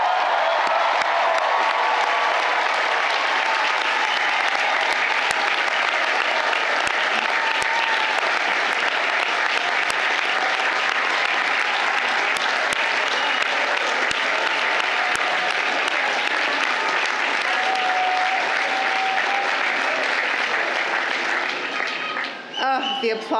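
A large audience applauds graduates at a Georgetown College 2022 commencement right after degrees are conferred, a dense sustained clapping roar for over twenty seconds that tapers off at the end, with faint crowd murmur mixed in.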